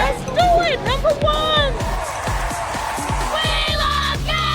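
Crowd at the WNBA draft event in Indianapolis cheering, yelling and whooping loudly and continuously, with shouted voices rising above the dense roar of the gathered fans.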